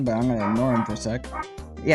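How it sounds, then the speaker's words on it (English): A pet dog whimpers and yips in the background, with short high whines overlapping a voice as he speaks over it. "that is my dog at the background"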